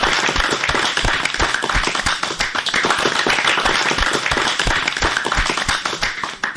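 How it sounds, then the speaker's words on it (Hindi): Children at a school programme clap together, loud and close. The clapping is dense and continuous, with many quick overlapping hand strikes throughout. "तब तो तालियां बजनी चाहिए भाई बच्चों।"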